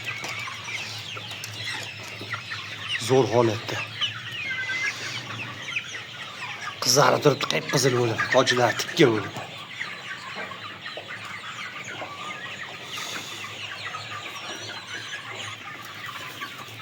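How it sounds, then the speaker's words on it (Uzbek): Young roosters crowing and clucking on a poultry farm, with bursts of calls around three and seven to nine seconds over steady background noise, while someone talks throughout. "Mana xo'rozchalari qichqirib qolgan."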